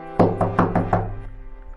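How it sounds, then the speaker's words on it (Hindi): Loud knocking on a door in a Hindi moral story: five sharp, evenly spaced hollow raps in quick succession, close and alone, followed by a brief fading ring. "अचानक दरवाजे पर जोरदार दस्तक होती है।"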